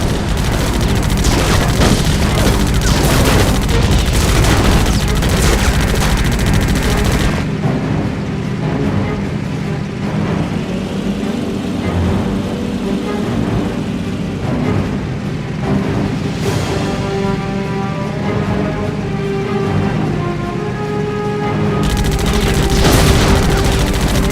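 Sustained heavy machine-gun strafing fire in the WWII air-combat game Heroes over Europe, loud and continuous with booming blasts and dense rattling bursts, easing briefly in the middle before surging again.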